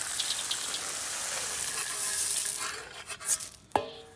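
Corn kernels are stirred by hand into straw feed material in a basin, making a continuous gritty, rustling hiss that breaks into a few separate scrapes and clatters at the end.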